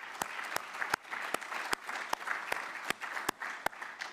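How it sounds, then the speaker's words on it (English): Audience applause at a law conference, a soft, steady patter of many hands with a few sharp, distinct claps standing out at regular intervals. "you deserve a round of applause"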